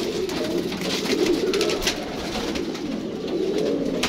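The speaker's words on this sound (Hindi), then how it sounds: "ये कबूतर है।" A pair of golden pigeons coo in low, repeated throaty calls, close by, over a steady background hum with faint chirps.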